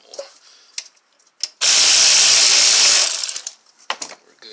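A ratchet tightens a bolt on the water pump of a 2014 Toyota Corolla in a loud, rapid clicking burst of about a second and a half. Quieter tool handling and faint clinks come before and after it.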